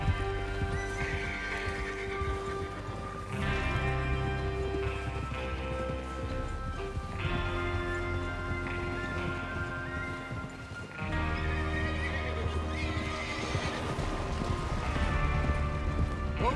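Horses whinny repeatedly amid steady clip-clop hooves in a Red Dead Redemption 2 gameplay scene, a loud, full mix with layered game music and no spoken voices.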